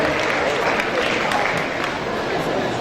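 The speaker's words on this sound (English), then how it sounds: "Y'all keep clapping for him. Let's keep clapping." An audience claps for someone on stage, a steady dense wash of applause running unbroken throughout, with crowd murmur mixed beneath.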